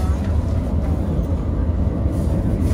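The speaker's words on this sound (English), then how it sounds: "We are turning right into the tunnel and going." Gotthard Panorama Express train rolling into a long tunnel, a steady low rumble of wheels and carriage noise filling the cabin at constant loudness, with a voice faintly present under the din.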